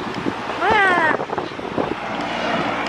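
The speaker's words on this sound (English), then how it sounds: "Dude, it's so windy." Strong outdoor wind buffets the microphone in a broad, steady rumble while a person cries out and speaks over it, the gusting noise continuing beneath the voice.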